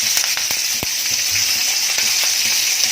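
Mustard seeds and chillies sizzle loudly in hot oil, a dense close crackle with scattered sharp pops and spatters over three seconds.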